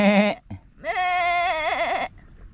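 A goat on a small farm gives two loud, close bleats: a short cry followed after a brief pause by a longer, wavering bleat with a quavering pitch.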